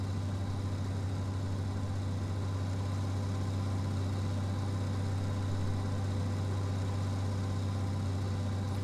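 A combine harvester engine in the farming game Farming Simulator 19 runs at a steady low drone while driving, with a strong low hum and constant rumble, loud and alone with no speech.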